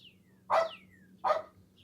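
A dog barks twice, sharp and fairly close, with a pause between barks and a faint cardinal chirp in the background.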